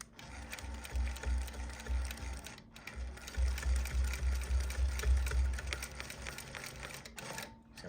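Longarm quilting machine stitching the binding onto a quilt, a steady close mechanical chatter of rapid needle strokes with a brief pause near the middle before running on again, no talking.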